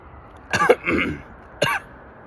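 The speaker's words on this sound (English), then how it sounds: "I was just coughing, but I'm all right" Two close, harsh coughs, the first a double burst followed by a rough throaty rasp, then a single short cough a moment later.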